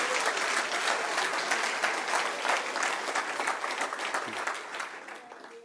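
A church congregation applauds loudly and steadily for several seconds as a dense wash of clapping. It thins slightly toward the end.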